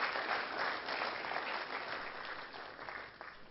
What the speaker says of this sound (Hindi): त्यसकारण उहाँको लागि जोरदार ताली बजाइदिनुहोस्